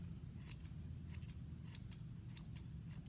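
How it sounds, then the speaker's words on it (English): Scissors trimming the edges of a yarn pom pom, several crisp snips in small clusters, close but soft over a low background hum, no voices. "you can just go ahead and keep trimming the edges, and you'll just keep doing this until you get to the shape that you like"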